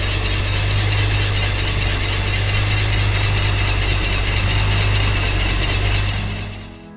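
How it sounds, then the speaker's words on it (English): A Nissan S14 Silvia engine idles, revived after sitting abandoned, with a loud steady rumble and a fine vibrating texture that runs evenly for several seconds and then fades out near the end. "The Silvia is running."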